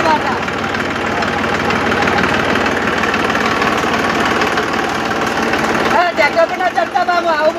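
A new tractor's engine runs at idle with a continuous, loud, rumbling, vibrating drone, and voices briefly break in near the end.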